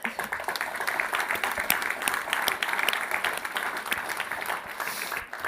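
Audience applause at an awards ceremony, sustained crisp clapping from a crowd heard at moderate distance, steady throughout.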